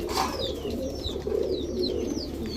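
Large Giribaz pigeons cooing in steady low rolling murmurs, with thin high chirps scattered over the top and a soft background hum, moderately quiet.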